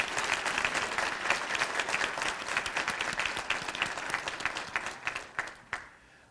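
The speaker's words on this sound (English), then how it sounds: "please join me in applauding our faculty and staff for the wonderful job they do each and every day." Audience at a college State of the College address applauding faculty and staff, a dense steady clapping that continues for several seconds and then thins out and fades toward the end.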